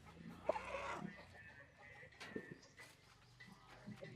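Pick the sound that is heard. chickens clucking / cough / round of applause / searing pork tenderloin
chickens clucking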